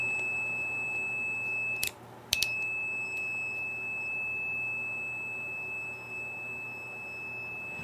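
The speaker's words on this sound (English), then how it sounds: "every time I make a measurement, it's just gonna beep like that." A steady high-pitched electronic beep from a multimeter taking a measurement sounds continuously, broken briefly by a couple of short clicks, over faint low background hum.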